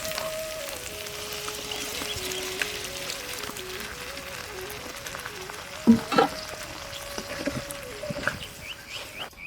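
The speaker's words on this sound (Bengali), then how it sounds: "সবজি থেকে তেল ছেড়ে দিয়েছে, এবার সিদ্ধ করে রাখা ডালটা দিয়ে দেবো।" Boiled dal goes into mixed vegetables frying in oil. A steady sizzle and bubbling carry on throughout, broken by a few sharp clatters and splashes near the end as the dal is poured in. A faint tonal hum runs underneath, and nobody speaks.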